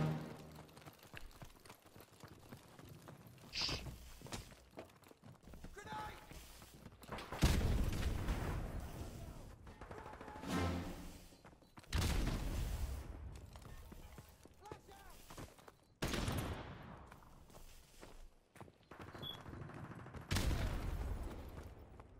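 Explosions and bursts of gunfire from a Modern Warfare Remastered Search and Destroy match, arriving as several loud, spaced blasts over quieter stretches, with a voice talking between them.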